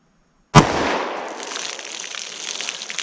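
A single .327 Federal Magnum gunshot fired into a baloney pack and fiberboard cracks sharply and loudly, followed by a long, fading rumble and hiss.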